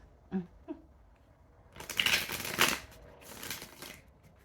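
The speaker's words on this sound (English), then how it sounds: "You shuffle it 2 more times." A deck of tarot cards being shuffled, with a couple of soft taps first, then several quick riffling bursts up close.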